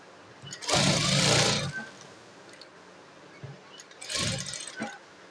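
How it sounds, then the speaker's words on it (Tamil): An electric sewing machine stitching a blouse in two short runs, a longer burst near the start and a second one about four seconds later, each a steady buzzing whir with quiet pauses between. "இதில் ரெண்டு தையல் போட்டு இப்போ மூணாவது வி போட்டுடுறேன்"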